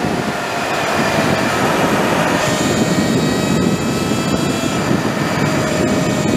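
A Sur Ron electric motorcycle running a 72V battery, 48-tooth sprocket and 12-inch wheels accelerates hard, giving a loud, steady, broadband rushing roar that holds for several seconds with no speech over it.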